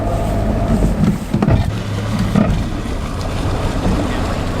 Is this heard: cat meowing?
no